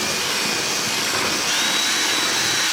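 A power drill runs in reverse while backing out of a drilled hole, giving a steady whirring motor whine with a faint high tone for a few seconds before it cuts off.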